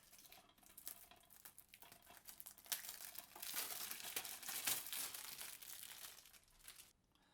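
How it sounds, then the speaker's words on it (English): Cellophane wrapper being peeled and crinkled off a package, soft close crackling and rustling that swells in the middle and fades out at the end. "I'll take the cellophane off first"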